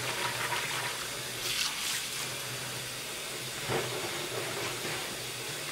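Hot water runs steadily from a tap into a sink while vintage Pyrex is being cleaned, a continuous hiss with a few brief surges, close by, with no speech.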